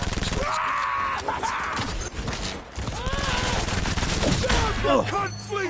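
Submachine gun fire in Cyberpunk 2077 crackles in rapid, sustained bursts, loud and close, mixed with shattering impacts and game effects, while someone talks over parts of it.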